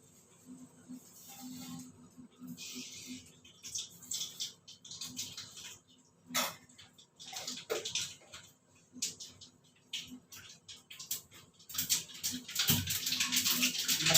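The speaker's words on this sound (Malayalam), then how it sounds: "കടുക് പൊട്ടുന്നുണ്ട്" Irregular crackling and popping as mustard seeds splutter in hot oil, sporadic bursts that grow denser and louder toward the end.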